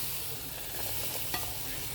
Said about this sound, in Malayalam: നമുക്കിതെല്ലാം പായസത്തിലേക്ക് ഇട്ട് കൊടുക്കാം.